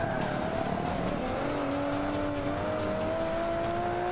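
Racing car engines roar steadily in a Forza Motorsport 5 race, video game audio, with a sustained droning whine that slowly rises in pitch, loud and continuous with no talk.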